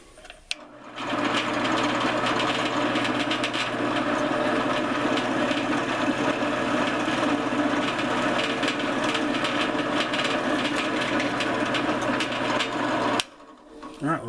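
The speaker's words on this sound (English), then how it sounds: "Got to turn the drill on." An electric drill runs continuously through a hole in a piece of wood, a steady loud whine and buzz close by for about twelve seconds before cutting off abruptly.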